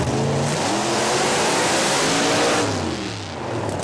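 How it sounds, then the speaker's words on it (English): A Camaro with a big 500 cubic inch Chevy engine roars through a dry burnout at a drag racing event, loud and sustained with rising and falling revs, close and dominating. "Brightwell really hooking up nicely on the dry burnout, lifting those front wheels."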